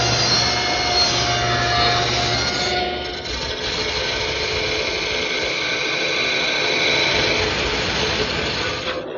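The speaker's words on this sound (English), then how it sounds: "I'll clip all the corners at the table saw." A table saw clips the corners of a turned wooden post in a woodworking shop. A loud, continuous motor roar runs throughout with a slight dip in pitch partway through, and no talking is heard.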